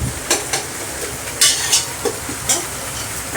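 Green chillies frying in a pan for biryani, with a steady sizzle broken by several sharp stirring scrapes and clinks of a utensil against the pan, close and fairly loud, no voices.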